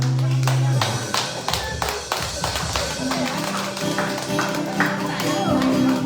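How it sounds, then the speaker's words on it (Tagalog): Church congregation clapping for the Lord, a run of sharp, fairly even claps with some music underneath, moderately loud and close. "Yung palakpak na para kay Lord."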